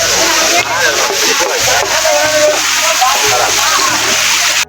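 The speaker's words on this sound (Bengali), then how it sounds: "এই তো ঝর্ণা" Water from a small mountain waterfall near Chandranath Hill in Sitakunda, rainy season, splashes and rushes steadily at close range with no pauses, a dense continuous wash of noise.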